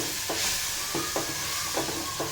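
Roasted, finely ground niger seed powder stirred in a pan for Bhogi vegetable dish, soft rhythmic scraping strokes over a steady hiss, close and moderately loud, about five strokes with no voices.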